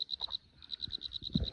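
Frogs croak at night near a swampy fishing spot in Cape York, a steady train of short, high pulsing calls repeating close by, with faint low thumps and rustling underneath.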